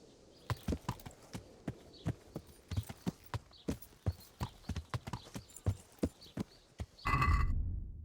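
A horse in Kingdom Come: Deliverance walks with steady, evenly spaced clip-clop hoofbeats, close and distinct, ending in a loud, brief whinny.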